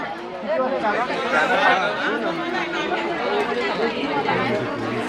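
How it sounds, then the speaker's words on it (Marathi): Dense crowd chatter at a village buffalo fair, many overlapping voices talking at once in a steady close hubbub with no single voice standing out. "गर्दी बघा किती किती खूपच गर्दी आहे"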